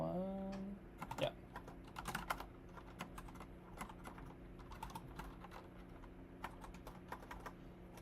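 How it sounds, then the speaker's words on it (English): Clicky keystrokes on a new computer keyboard tap out in irregular bursts, close and distinct, after a brief tonal sound at the start. "So sorry, my typing is so bad."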